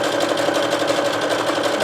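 A sewing machine stitches gathers into fabric at a 5/8 seam allowance, running steadily and loudly at close range with a fast, even mechanical whir and no talking.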